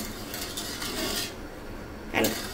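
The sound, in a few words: stirring sugar in a pot to melt it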